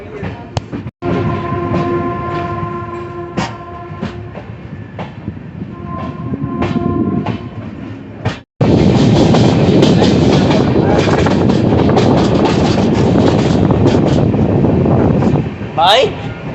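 A passenger train travelling from Kolkata to Prayagraj rolls along the rails, opening with steady tonal hums and knocks, then a loud, continuous close-up rumble and rattle that fills the rest.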